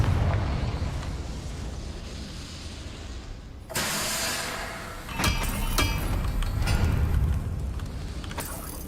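A Confringo spell in a Harry Potter video game triggers a sudden blast partway through, followed by rumbling, crackling debris and a second burst of impacts over a low ambient hum.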